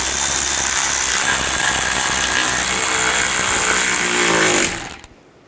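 Power tool driving bolts down on a cover during front lower control arm work on a 2010-16 Buick LaCrosse, a loud steady whine and rattle held for several seconds before cutting off abruptly.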